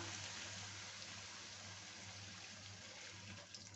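Water trickles steadily into a pot of white sauce for pasta, a small glassful poured in with a continuous, even splashing hiss from start to finish and no voices.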